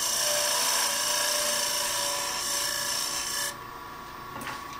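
A parting tool cuts a tenon on a wooden handle spinning on a lathe, giving a steady, loud scraping hiss that suddenly drops off near the end as the cut finishes.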